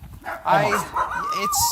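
A dog gives short barks and yips close by, mixed in with someone talking inside a car.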